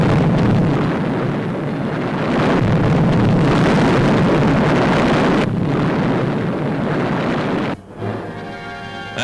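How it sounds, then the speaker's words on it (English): A deep, roaring depth charge explosion at sea rumbles on at length, a heavy low-frequency surge with rushing turbulence, briefly dipping before a final burst of churning noise. "Equipped with powerful depth charges carrying higher explosive power"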